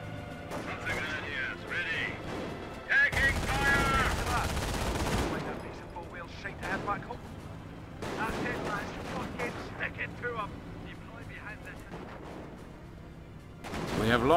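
MG42 machine gun mounted on a Wehrmacht Schwimmwagen in Company of Heroes, firing a sustained rattling burst of about two seconds, then scattered bursts of battle gunfire mixed with voices talking throughout.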